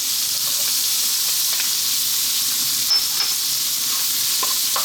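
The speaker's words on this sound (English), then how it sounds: "we're going to drop in our onion" Onion and garlic hitting hot oil over high heat, a steady loud sizzle and hiss throughout with a few faint stirring clicks.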